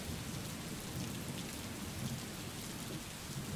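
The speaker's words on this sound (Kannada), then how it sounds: "ಬಿಟ್ಟು ಬಿಡದೆ ಸುರಿತಾ ಇರುವಂತಹ ಧಾರಾಕಾರ ಮಳೆಗೆ ಚಿಕ್ಕಬಳ್ಳಾಪುರ ಜಿಲ್ಲೆಯಾದ್ಯಂತ ಧಾರಾಕಾರವಾಗಿ ಮಳೆಯಾಗ್ತಾ ಇರುವಂತದ್ದು" Torrential rain pours down steadily across Chikkaballapura district at night, a dense, continuous hiss of heavy rainfall hitting surfaces with no pauses, loud and close throughout.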